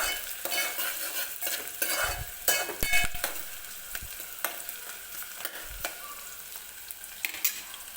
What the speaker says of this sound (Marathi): तर आपण रस्सा बनवतोय त्यासाठी आता आपल्याला कांदा भाजून घ्यायचा आहे सुरुवातीला.